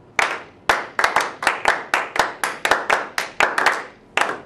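Brisk rhythmic hand clapping at close range, roughly a dozen sharp claps in a quick, slightly uneven pattern with short gaps between groups.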